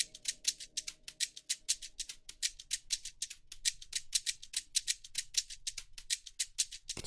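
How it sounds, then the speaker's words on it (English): Two layered shaker loops in an FL Studio Afrobeats-style beat, crisp rhythmic hissing strokes in a steady, busy pattern, loud and close, with a faint low tone underneath early on and no voices. "So when I add the other shaker,"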